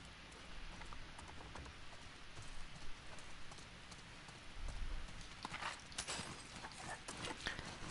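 Horse hooves clip-clop steadily in The Last of Us Part II, with a rain-like patter and ambient game noise beneath, the footfalls sitting at moderate distance and rising briefly louder midway.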